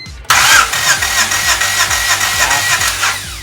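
A cold Honda Civic D16A engine cranks on the starter during a compression test, an abrupt start followed by a fast, even chugging rhythm of compression pulses over about three seconds without firing, loud and close, no talk.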